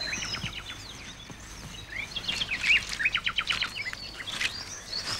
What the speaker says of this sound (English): Fantastic bird song.